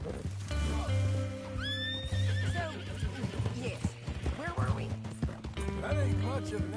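A horse in the video game Red Dead Redemption II gives a rising, shrill whinny amid steady clip-clop hoofbeats and a low rumbling game soundtrack, with voices speaking throughout.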